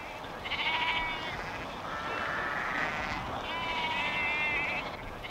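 Sheep bleat in a flock wintering on wide, damp lowland meadows kept by a travelling shepherd, with several overlapping calls at moderate distance over a quiet outdoor background.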